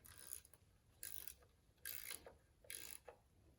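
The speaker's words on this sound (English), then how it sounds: "Now this is the old Cobalt. This wrench is almost silent." An old Cobalt ratcheting wrench ticks quietly in four short bursts of close, soft clicking, with brief pauses between strokes.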